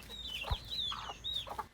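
A rooster, unable to crow properly, gives a few rising clucks and strained squawks close by, with brief pauses between calls and no talking.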